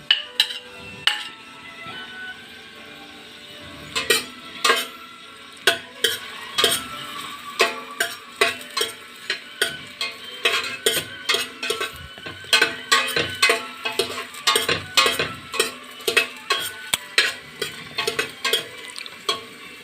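Chicken afritada is being sautéed in cooking oil in a pan, with a metal utensil repeatedly clinking and scraping against the pan in steady, irregular strokes over a soft, constant sizzle, close and clear.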